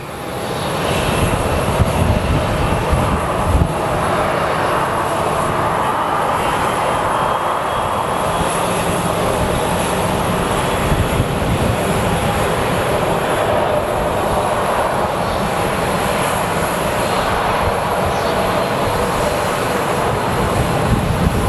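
A plane lands at Sky Harbor Airport in a loud, sustained roar of jet engines that rumbles steadily throughout, with no voices.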